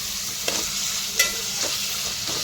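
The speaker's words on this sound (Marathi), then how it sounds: "त्यामध्ये आता आपण कांदा थोडासा आपला शिजवून घेऊया छान असं." Onions cooking in a pan for a vegetable biryani give off a steady, loud hiss of frying, with a few soft stirring scrapes.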